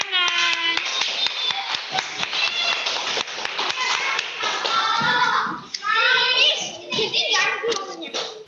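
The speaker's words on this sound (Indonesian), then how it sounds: "Oke, tepuk tangan." Children clap their hands in a rhythmic series of sharp taps during an online Indonesian-language class, with young voices and a teacher talking over the claps.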